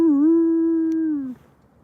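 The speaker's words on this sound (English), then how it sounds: "There's another damn wolf" A wolf howls at night in a single steady, sustained tone lasting over a second before it fades out, sounding fairly clear and close.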